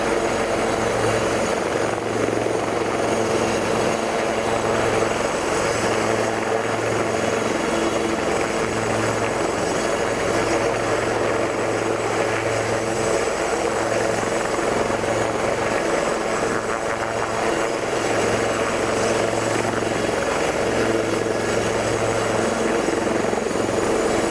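A Royal Navy Commando Helicopter Force helicopter at an airshow at Yeovilton: the rotor thumps steadily and loudly over a constant engine roar, close by and continuous throughout, with no voices.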